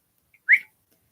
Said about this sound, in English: Whistles at a dog.